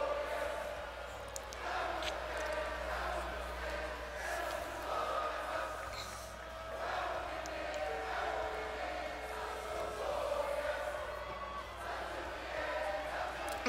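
A large video game wrestling crowd in WWE 2K20 cheers and sings together at a distance, a steady roar of many voices that swells and dips.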